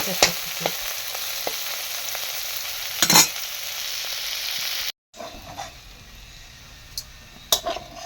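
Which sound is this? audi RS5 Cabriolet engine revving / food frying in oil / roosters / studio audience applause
food frying in oil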